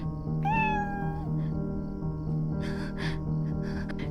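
A cat gives a single clear, drawn-out meow near the start, set against a steady background hum with some soft breathy rustling later on.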